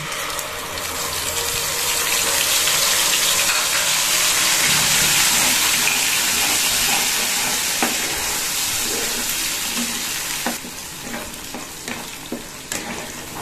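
Whole cumin, whole coriander, ginger and green chili paste fry in a pan, a loud continuous close sizzle that swells then eases, with scattered stirring scrapes and taps toward the end, no talk.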